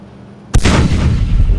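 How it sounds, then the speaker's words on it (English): Massive burst of gunfire from many guns at once in Space Engineers, erupting suddenly after a quiet stretch and continuing as a loud, dense, sustained roar. "Wow, those were a lot of guns."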